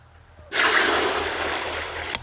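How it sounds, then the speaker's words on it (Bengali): Drinking water pours and splashes over mutton chusta being washed, a sudden steady rush of water that runs close and fairly loud for nearly two seconds, ending with a small splash. "ভালো করে পরিষ্কার করে নেব চুস্তাগুলোকে ভালো করে পরিষ্কার করে নেব বিশুদ্ধ পানীয় জল"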